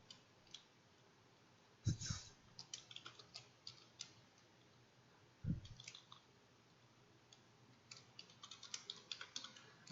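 Computer keyboard typing at close range, quiet irregular clusters of clicky keystrokes with a couple of louder thumps between bursts, no voices.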